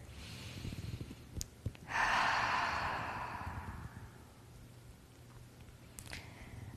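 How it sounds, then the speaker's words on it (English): A slow, deep breath during a progressive relaxation exercise: a soft airy inhale swells, then fades gently over about two seconds, quiet and close, with a few faint clicks around it and no talking. "taking a nice big breath here."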